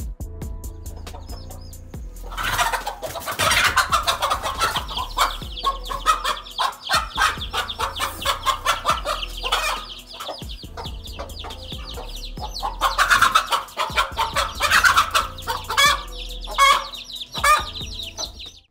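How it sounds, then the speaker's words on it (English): A mother hen battles a cobra to protect her chicks, giving loud, agitated clucks and squawks in repeated bursts against a steady low background, with no talk. "The cobra went in for the chicks, thinking it was gonna be easy, but the mother fought it off."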